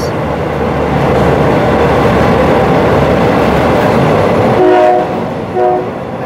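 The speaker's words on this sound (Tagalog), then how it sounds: "Eh, yung train sa taas." A train passes overhead at Taling Chan Floating Market in Bangkok with a loud, steady rumble that fills most of the clip, then fades as a brief horn-like tone sounds near the end.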